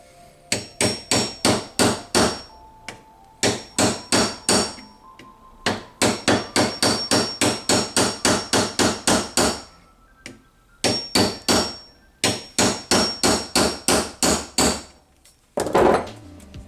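A hammer strikes a rivet on a pinball machine ramp in quick bursts of sharp, ringing taps, about five to ten blows per run with short pauses between runs, close and loud.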